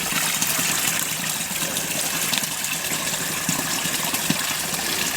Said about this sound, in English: So that water's flowing nice and free and joining this down here.